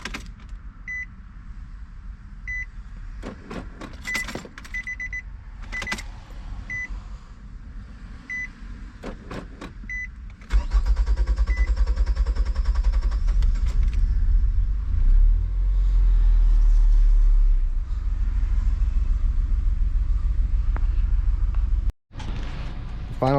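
A 2005 Nissan Altima with a newly replaced fuel pump is primed with several clicks and whirs, then the engine cranks and starts, settling into a steady, loud close idle.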